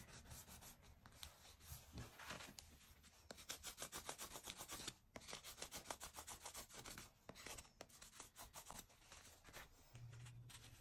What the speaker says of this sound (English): Never enough burnishing.